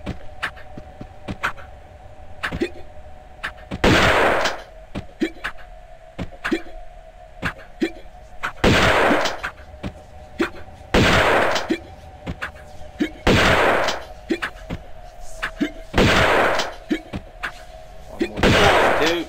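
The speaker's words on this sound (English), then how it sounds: "we're going to use the shotgun to kill him" Shotgun blasts in Tomb Raider II, about eight loud, booming shots spaced a couple of seconds apart over a steady low game hum and scattered soft thuds.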